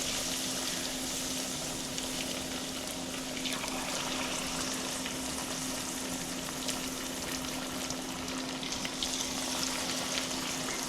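Steady, close sizzling of battered fish pieces frying in hot oil, a continuous crackling hiss with faint bubbling and no talk.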